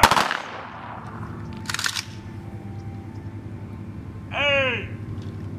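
A rifle volley fired in a funeral gun salute, a sharp blast at the start followed by a second crack about two seconds later, loud and close outdoors with a steady low background hum.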